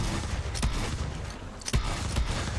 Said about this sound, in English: it makes the Doom noise